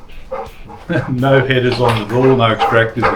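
A dog barks several times in quick bursts, loud and close, overlapping someone talking about an engine setup beside a Holden HZ one-tonner ute.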